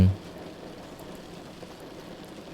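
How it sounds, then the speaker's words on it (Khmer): Heavy rain pouring down, a soft, even hiss that runs steadily throughout at low level after a brief louder thump at the start. "ដោយសារតែភ្លៀងធ្លាក់មកខ្លាំងពេក"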